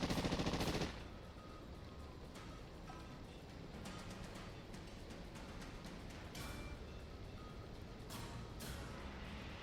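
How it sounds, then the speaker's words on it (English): Automatic assault rifle fire as a tabletop sound effect for a Cyberpunk Red role-playing session, a steady rattling stream of rapid shots lasting throughout, moderately loud, after a brief louder burst at the start. "He's just firing into the air as the assault rifle dry."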